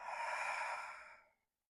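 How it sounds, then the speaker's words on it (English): A single long, deep exhale during a Hatha yoga practice, close and breathy. It holds steady for over a second, then fades out into silence. "Deep breath."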